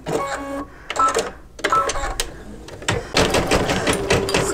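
Embroidery machine stitching silver thread onto a mug rug, a fast rhythmic mechanical chatter with stops and restarts, close and fairly loud, with a little speech mixed in.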